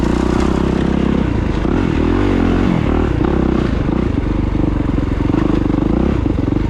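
Kawasaki KX450SR 450 dirt bike engine droning loud and close while riding, with the pitch dipping and climbing through shifts up to third gear.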